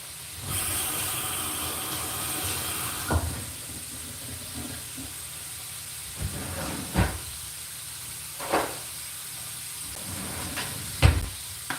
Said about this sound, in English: You hear the sizzle. You hear the sizzle.